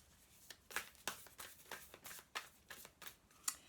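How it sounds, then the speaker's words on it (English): Tarot cards shuffled by hand for an intuitive Gemini love reading, giving a run of soft papery riffles and quick flicks in an irregular rhythm, close and quiet with no talking. "While I'm shuffling"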